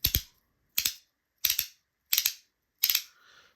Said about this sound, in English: This just has that nice high pitch clack, doesn't it?